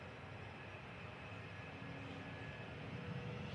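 A Ryanair jet airliner departing Manchester Airport for Madrid roars steadily in the distance, a broad continuous engine rumble that swells slightly toward the end.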